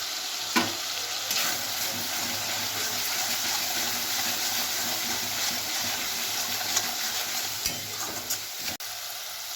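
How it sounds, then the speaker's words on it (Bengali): Ground turmeric, Kashmiri chili, cumin and coriander with chopped tomato and salt fry in a pan for a chicken dish, a steady close sizzle broken by a few faint stirring knocks. "দিয়ে এই মশলাটাকে আমি কিছুক্ষণ কষে নেব ভালো করে।"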